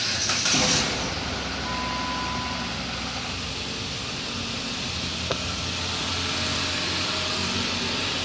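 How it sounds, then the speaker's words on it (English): A car engine cranks and catches after a cam and crank relearn, then settles into a steady broadband running roar with faint tonal whines, heard close with no talking. "So let's see if we start this engine or not."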